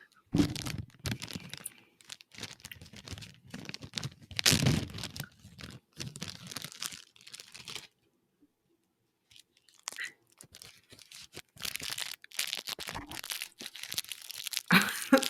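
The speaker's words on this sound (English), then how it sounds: "That crinkling sounds great." Crinkly snack wrapping being opened and handled, giving steady loud crackling and rustling that pauses briefly midway and then resumes, close to the mic with no talking.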